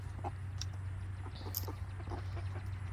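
Backyard hens and a rooster cluck softly in short scattered bursts over a steady low hum, with no voices.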